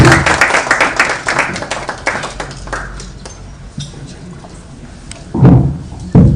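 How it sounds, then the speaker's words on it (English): Audience applause following a speech by Honorable Ndindi Nyoro on Kenya's economy, a burst of clapping from a crowd in a plenary hall that fades to a low murmur before rising briefly again at the end. "let's give a good round of applause to Honorable"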